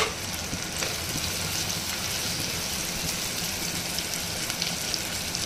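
Curry leaves crackle and sizzle in hot tempering oil with salt in a pan while making tomato methi curry, a steady close frying hiss with fine popping spatters, no talking over it.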